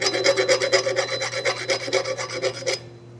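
A round file rasps a burr off a driveshaft yoke in quick, even back-and-forth strokes, about a dozen close, scratchy passes before stopping.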